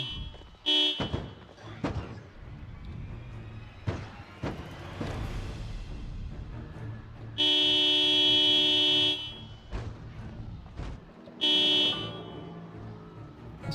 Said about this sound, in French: La seule solution que j'ai trouvée, c'est klaxonner pour le moment.